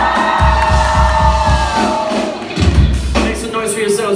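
A concert crowd on a tour shouts and whoops for the opening acts over thumping bass beats, with an amplified voice speaking on stage and a swell of screams near the end.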